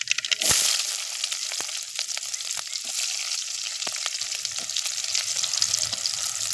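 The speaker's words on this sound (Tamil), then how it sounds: "தேவையான அளவு எண்ணெய் ஊற்றிக்கலாம் கடுகு போட்டுக்கலாம்" Mustard seeds frying in hot oil in a pan while making a spinach stir-fry, a steady bright sizzle with scattered sharp pops and crackles throughout, close and continuous with no talking.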